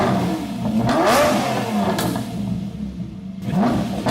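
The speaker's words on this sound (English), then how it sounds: "And then I put an exhaust on that sounded like this." Revving exhaust on a rebuilt Fast & Furious Lamborghini movie car, a close, loud rising engine blip followed by a second rev after a short pause.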